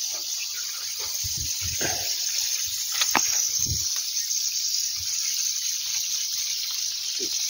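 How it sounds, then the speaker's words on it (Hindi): Mini sprinklers spraying water over a young rice nursery in a field give a steady, even hiss throughout, with a few faint soft knocks and rustles underneath. "मिनी फुहारे से इसकी सिंचाई होती है, 8 से 10 घंटे तक फुहारे चलते हैं"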